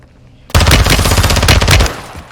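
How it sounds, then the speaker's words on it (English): Gunfire in Warzone 2.0 combat: a loud, close burst of rapid shots lasting over a second, then a fading tail. "Wait, I'm getting sniped from behind."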